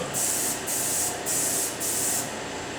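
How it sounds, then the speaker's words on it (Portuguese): A spray paint can sprays graffiti in four even, close hissing bursts, each about half a second long, separated by short pauses. "vocês mantêm uma distância média da superfície ao bico do spray, mais ou menos de 2 dedos, e vão fazer movimentos uniformes"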